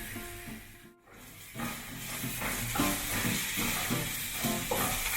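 Coriander powder, salt and other spices frying in a pan for corned beef masala hiss steadily while a utensil scrapes through them in a regular rhythm, growing fuller after a brief pause, with no talking.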